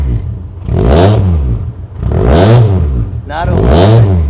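Mazda Roadster engine with its catalytic converter fitted revs up three times, each rev a loud rising-and-falling roar with short pauses between, close by.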